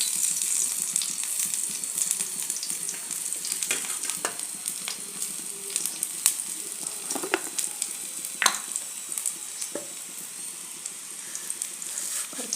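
Crushed garlic frying in hot coconut oil for sambar, a steady bright sizzle with occasional sharper crackles and stirring knocks, close and continuous with no talking.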